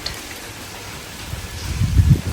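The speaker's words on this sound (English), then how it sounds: "Let's go out again into the lovely rain." Rain falls outdoors on a bike trip in Mahabaleshwar, India, a steady soft hiss with low rumbling gusts or handling noise building toward the end.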